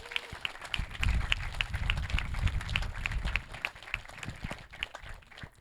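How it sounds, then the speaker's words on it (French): Applause from the audience at an antifascist youth meeting, a burst of clapping that rises, holds for a few seconds, then thins toward a sparser rhythmic patter. "je pense qu'on peut applaudir les camarades hongrois"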